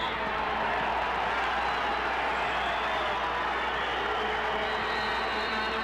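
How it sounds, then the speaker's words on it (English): A partisan Colombian crowd at a 2000 Gold Cup football match against Canada, a dense, steady stadium roar of frustrated voices filling the air at a distance. "And the partisan Colombian crowd voices their frustration."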